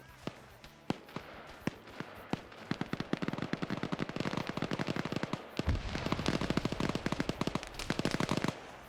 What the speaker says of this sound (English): Now they start firing, but they're also taking a little bit of crossfire